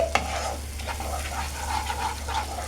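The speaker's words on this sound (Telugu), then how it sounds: "బటర్ అంతా కూడా కరిగే వరకు మనం కలిపేసుకుంటూ ఉండాలి." Butter being stirred as it melts and turns frothy for homemade butterscotch ice cream, with a quiet scraping and stirring over a soft sizzle and a low steady hum beneath.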